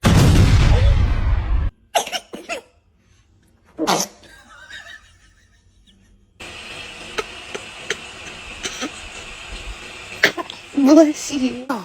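A newborn baby sneezes several times in short, separate bursts between quiet pauses, close and clear, while an adult voice talks softly around the sneezes.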